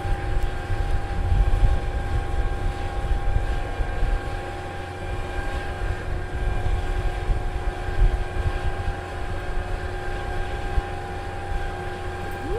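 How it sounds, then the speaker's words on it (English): The engine of a Sky Master aircraft runs up during an open day, a steady droning propeller roar with a constant tonal hum and a rough, rumbling low end, loud and close and unbroken throughout. "We are going to get an engine run"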